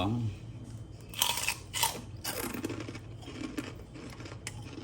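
Crunchy fried pork rind chicharon bitten and chewed up close, a few crisp crunches followed by softer chewing, with a voice briefly audible.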